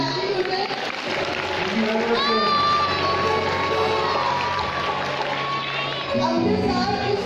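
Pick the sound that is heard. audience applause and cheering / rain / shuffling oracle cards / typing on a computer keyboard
audience applause and cheering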